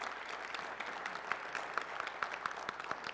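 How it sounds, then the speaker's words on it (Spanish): Audience applause for a conference presenter, steady dense clapping filling the room at moderate level, with a few sharper claps standing out, no talk over it. "Así que un aplauso para Nahir Rebata"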